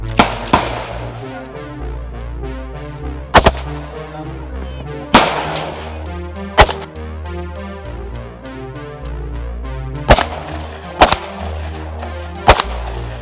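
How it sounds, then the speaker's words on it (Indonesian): Rifle shooting practice with the Indonesian Air Force at a hilltop radar site, sharp single gunshots cracking at irregular intervals over a low continuous rumble and background noise. "Kokang, isi senjata, tembak."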